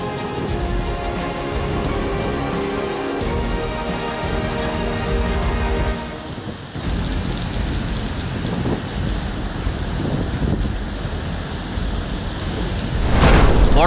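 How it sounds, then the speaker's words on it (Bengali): Heavy rain and hail pour down on the streets of Imphal, Manipur, a dense continuous roar holding steady throughout, with a brief dip midway and a louder swell at the very end. "প্রচণ্ড শিলাবৃষ্টিত শুভ্র হয়ে পড়িল ইম্ফল রাজপথ।"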